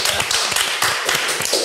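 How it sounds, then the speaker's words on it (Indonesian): An audience claps together at a graduation gathering, giving a short burst of brisk, close, rhythmic applause that sounds like rapid taps. "Tepuk tangan dulu semuanya."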